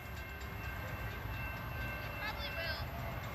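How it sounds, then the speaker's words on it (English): A CSX manifest freight train passes in Folkston, Georgia as a steady broad low rumble with rolling wheel noise, a faint high squeal rising near the end, while people talk faintly nearby. "Here he comes, guys. CSX manifest."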